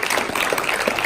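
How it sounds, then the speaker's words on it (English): Audience applause after a call for a round of applause at a church gathering, a dense steady clapping wash that fills the whole short moment without a break. "can you guys give these guys a round of applause"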